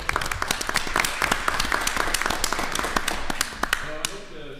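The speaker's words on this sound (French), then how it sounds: "je pense qu'on peut l'applaudir." A council meeting audience claps steadily for several seconds, a crisp crowd of hands with sharp individual claps, fading at the end as a voice starts talking.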